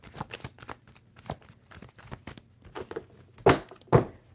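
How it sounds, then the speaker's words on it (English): A tarot deck being shuffled by hand at close range, a run of soft riffling card flutters and taps ending in two sharper slaps as the cards are squared. "One more shuffle."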